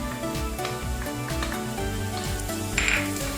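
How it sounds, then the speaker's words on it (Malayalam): Onions sautéing in a pan with chilli powder, turmeric and garam masala, a steady close sizzle with scraping stirs and a brief clink of utensil near the end, no voices. "ഇതുകൂടെ ചേർത്ത് അവയുടെ പച്ചമണം മാറുന്ന വരെ നന്നായിട്ട് നമുക്ക് വഴറ്റാം."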